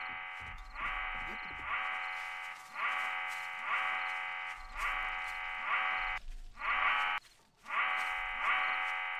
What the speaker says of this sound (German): Mein Alarm geht ja permanent ab.